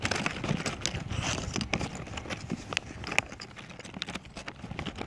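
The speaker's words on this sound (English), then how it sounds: "That's the sound of my hand reaching into the bag." Hand rummaging inside a bag of dried jackfruit, giving close, irregular rustling and crinkling bursts with scattered sharp crackles throughout.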